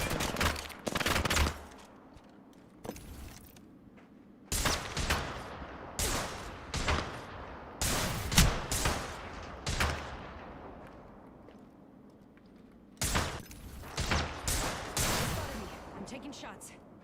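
Gunfire strikes the player in Apex Legends, with repeated bursts of shots and sharp impacts in clusters separated by brief pauses, loud and close, while a person talks between the volleys.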